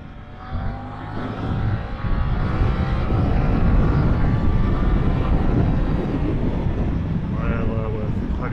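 A Suzuki GSX-8S motorcycle engine accelerating onto an expressway, loud and close with a rising drone and heavy wind roar building after the first second, no talk.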